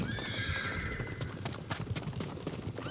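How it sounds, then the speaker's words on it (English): Horses in Ghost of Tsushima gallop with busy, continuous hoofbeats and let out clear neighs and whinnies over a rough outdoor game ambience. "They're horses."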